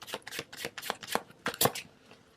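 Tarot cards are shuffled and drawn by hand, a quick run of crisp, close riffling and flicking bursts in a steady rhythm that trails off into a softer slide.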